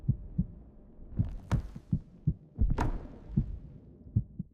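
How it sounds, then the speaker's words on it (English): Documentary heartbeat sound effect: a slow series of deep, thudding low pulses in a repeating lub-dub rhythm, moderately loud against a dark ambient hum, with no voices. "the first heartbeat of life"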